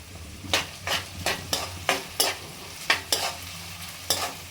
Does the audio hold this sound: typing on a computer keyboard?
no